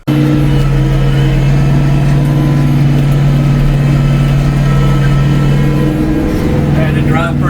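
Tractor dropped into low gear pulling a chisel disc through big, dry food-plot soil, a loud steady engine drone close by that holds constant, with a brief shift in pitch near the end.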